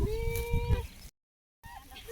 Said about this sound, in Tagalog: Ganito pala karami ang kambing dito.